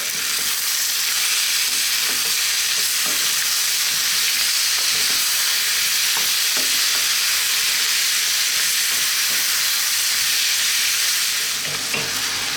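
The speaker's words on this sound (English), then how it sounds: "We're now going to give this a mix. And we're going to let this go for about 5 to 6 minutes, stirring often." Tomatoes frying in a pan for a vegan potato curry (aloo), a steady loud sizzle and hiss running throughout with soft scraping clicks of stirring scattered across it, no voices.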